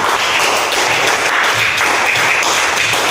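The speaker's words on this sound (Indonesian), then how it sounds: "Beri tepuk tangan untuk kita semua." A class of schoolchildren applauds together at the end of a lesson, a dense, steady patter of many hands clapping close by that runs the whole time with no pause.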